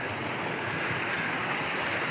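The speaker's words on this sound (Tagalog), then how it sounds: "malakas ng agos dito, malakas." Strong current of a small mountain waterfall stream rushes in a steady, dense wash of water noise, close and continuous throughout with no voices.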